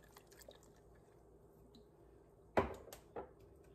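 Worcestershire sauce goes in for a spicy seafood sauce as a few quiet liquid splats, the clearest a sharp splash followed by a softer drip about half a second later, with no talk.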